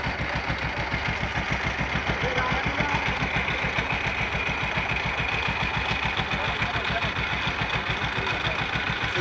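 A wooden river boat's motor chugs at a steady, rapid low throb on the river confluence at Chandpur near sunset, continuous and close, with voices talking over it.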